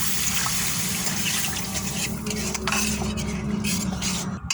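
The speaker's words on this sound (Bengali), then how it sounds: "এবার এতে একটু জল দিয়ে দেবো।" Water poured into a pan of lightly roasted semolina on a low gas flame, with steady stirring and soft scraping of a utensil against the pan, a faint sizzle and liquid sloshing running continuously throughout.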